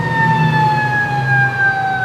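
Emergency vehicle sirens wail steadily and loudly, their tone sliding slowly downward over a low rumbling traffic background.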